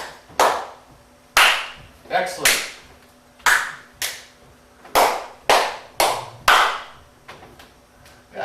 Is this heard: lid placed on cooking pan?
no